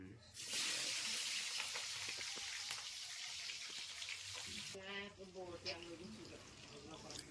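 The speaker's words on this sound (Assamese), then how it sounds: "পিঁয়াজখিনি ধুনীয়াকৈ ভাজি ল'ব লাগিব" Onions fry in hot oil in a kadai for an Assamese local chicken curry, giving a loud, steady sizzle and hiss for several seconds. The frying fades under a person speaking near the end.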